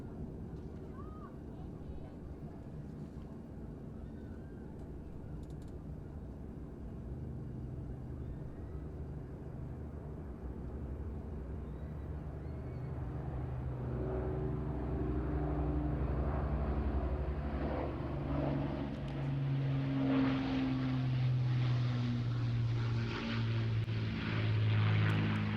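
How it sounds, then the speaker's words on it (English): An Avro Lancaster bomber of the RAF Battle of Britain Memorial Flight, City of Lincoln, with four Merlin engines, flies past at a sunset airshow display. The low propeller drone starts distant, then swells and grows louder, thickening as it nears. "listen to these beautiful 4 Merlin engines"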